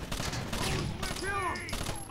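Gunfire in Rainbow Six Vegas, a dense run of shots crackling through a short stretch, with a voice briefly speaking over part of it.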